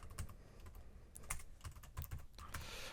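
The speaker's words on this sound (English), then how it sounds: "here I'm going to just type my label, and I'm going to write gallbladder." Steady typing on a computer keyboard as a label is entered, a quiet run of close, uneven key clicks with no voices.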